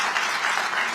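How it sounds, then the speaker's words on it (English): A brief burst of thick crowd applause at a political gathering, a loud, even roar of many hands clapping together. "yeah, that's worth applauding."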